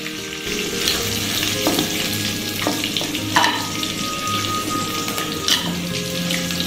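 Fish pieces frying in hot oil in a pan give a continuous close sizzle with small crackles and pops, loud and steady with no voices.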